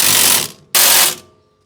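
A ratchet tightens the brake caliper mounting bracket bolts on a Mazda BT-50, with two quick close bursts of dense clicking separated by a brief pause before it falls quiet.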